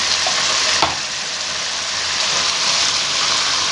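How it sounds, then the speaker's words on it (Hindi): Chicken pieces frying in a pan with ginger garlic paste, giving a steady, close broadband sizzle that runs the whole time with one brief clink near the start. "अब मैं इसे अच्छे तरीके से फ्राई कर लेंगे।"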